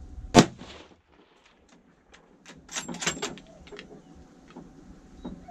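A single sharp rifle shot cracks loudly during a deer hunt outdoors, followed by quiet rustling and faint movement sounds, with low voices murmuring afterward.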